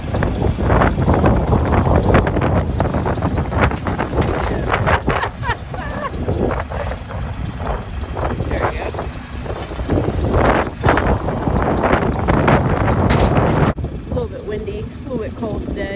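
Strong wind gusting over a farm field prepared for the growing season, roaring as heavy buffeting across the microphone for the whole stretch, with someone talking over it in places.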